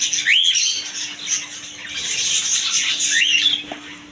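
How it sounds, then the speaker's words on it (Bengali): Fantail (lakkha) pigeons and other birds in a bird shop: short rising chirps and squawks come over a constant airy hiss, with a steady low electrical hum underneath. "আরও পেয়ে যাবেন লাক্ষা কবুতর"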